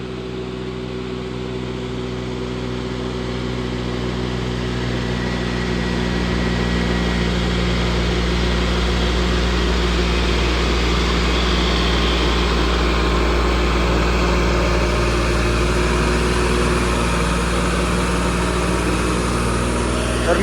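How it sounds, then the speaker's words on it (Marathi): A John Deere tractor carries a 24-25 ton load up a slope, and its engine drones steadily and loudly through the whole stretch. The low engine note holds even throughout, with no speech over it. "तर मित्रांनो, या ट्रॅक्टरमध्ये 24-25 टन लोड आहे आपल्या जॉन मध्ये"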